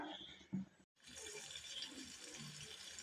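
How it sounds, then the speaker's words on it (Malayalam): Cooking oil poured into a pan on the stove: a quiet, continuous liquid pour after a brief knock and a short pause, faint and close. "കുറച്ച് എണ്ണ ഒഴിച്ചു കൊടുക്കാം"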